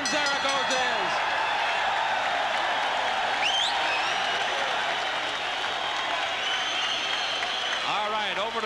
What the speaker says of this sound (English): the crowd applauds Zaragoza